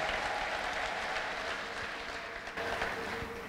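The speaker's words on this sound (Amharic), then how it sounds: "አጨብጭቡ ለጌታ" A church congregation claps together in steady, dense applause that holds even and loud throughout, with no speech over it.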